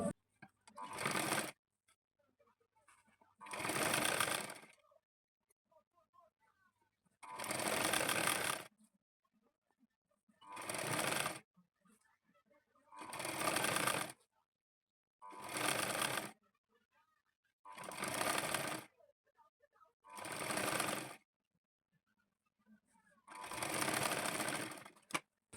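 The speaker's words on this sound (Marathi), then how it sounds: "दोन्ही साईडला मी असं फोल्ड करून टिप मारून घेतलेली आहे" A sewing machine stitches the folded edge of a cloth in about nine short, steady whirring runs, close and clear, with quiet handling sounds in the pauses between them.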